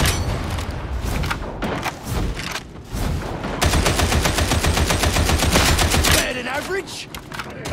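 Gunfire in the Warhammer 40,000: Darktide video game, bursts of rapid automatic fire and heavy thumps that build into a sustained loud volley, then trail off near the end.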